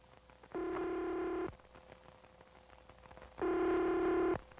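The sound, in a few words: telephone ringing unanswered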